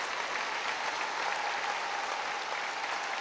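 Russian fans applauding at a pairs figure skating free program at the Rostelecom Cup, dense continuous clapping from a large arena crowd, steady and loud throughout.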